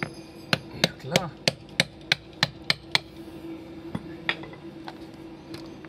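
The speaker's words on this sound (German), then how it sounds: "Muss der Hammer her." A steady series of sharp metallic hammer blows on red-hot glowing metal rings out, about two per second, then slows and fades to lighter taps.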